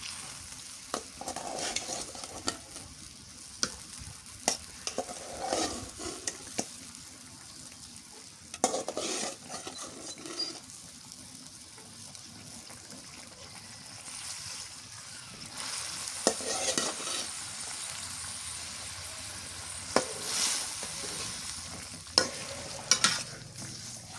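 Fish frying in a pan with steady sizzling and occasional stirring, clinks and scrapes of a utensil against the pan, close and continuous.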